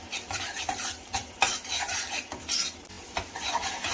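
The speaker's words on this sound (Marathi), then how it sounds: "तर ही मूगडाळ आहे ती आपण ह्याच्यावरती भाजून घेऊया" Moong dal roasts in hot ghee in a kadhai over medium heat. Near, continuous stirring scrapes and clinks of the spoon sit over a light, steady sizzle, with no talking.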